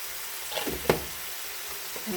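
Spice masala sizzles and crackles in hot oil in a pan while being cooked down for a bean seed dal, with a soft constant fry and one sharp knock of a utensil.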